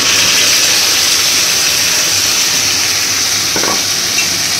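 A ground paste of small onions, ginger and cumin hits a hot pan for a homestyle fish curry with brinjal and potato, giving a loud, steady broadband sizzle throughout, with a brief scrape or stir midway and no talking.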